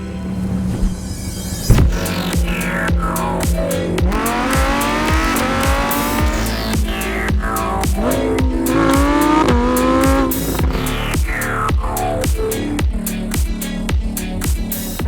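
A 2020 Lamborghini Huracan EVO makes a launch control start, its engine roaring through rapid upshifts with rising pitch sweeps, loud and close, as the tires squeal at the launch.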